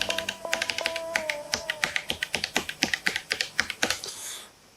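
Rapid typing on an ASUS ROG Strix Scope RX keyboard with optical switches: a quick, even run of crisp, fairly soft keystrokes, close up and alone, that stops just before the end.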